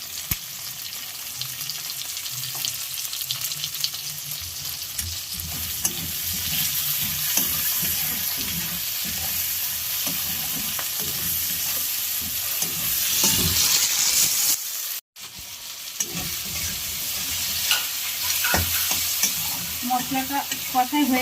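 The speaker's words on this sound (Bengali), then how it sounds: "এটাকে ভালোভাবে কষিয়ে নেব।" A spice mixture with tomatoes and a little salt is sautéed in a pan for a Bengali jackfruit and prawn curry, with a continuous sizzle and repeated stirring scrapes. A brief gap comes near the middle, and no one speaks.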